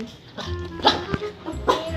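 A dog gives a few short barks and yips close by, mixed with a person talking.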